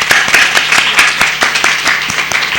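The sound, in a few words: audience applause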